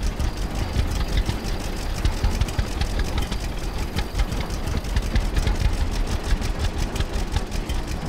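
An old, slow tractor in Farmer's Dynasty chugs steadily, a low, knocking engine idle with a regular pulsing rhythm, close and constant throughout.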